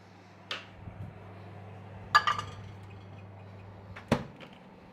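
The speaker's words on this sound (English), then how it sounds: "Just pause there while I stir the chocolate." A spoon stirs melted chocolate in a bowl for a chocolate mousse, giving three soft, isolated clinks spaced a couple of seconds apart over a quiet, low room hum.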